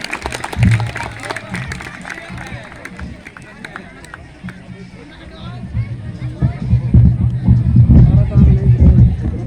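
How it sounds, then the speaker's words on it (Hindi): Audience at an outdoor Hindi poetry gathering in Rudrapur claps and applauds, the clapping building to a loud, sustained burst near the end amid crowd babble and talking voices. "एक बार फिर जोरदार तालियों से विशु उपाध्याय के द्वारा।"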